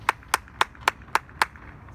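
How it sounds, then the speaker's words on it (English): Six sharp, evenly spaced handclaps ring out at a school fall sports awards ceremony. The claps are crisp and close, with no voices over them. "Clap it up, guys. Clap it up."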